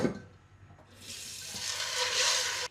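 Water runs from a tap into a pot of chickpeas for soaking in a home kitchen, a steady hissing rush that starts after a brief pause and continues close by until it cuts off.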